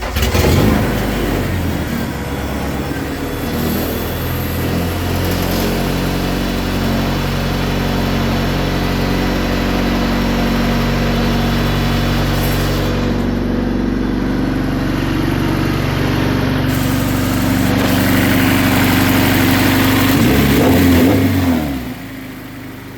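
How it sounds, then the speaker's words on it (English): A race car engine fires up and settles into a loud, steady idle with a rough low rumble, holding close and constant before cutting off near the end. "Let's start her up real quick."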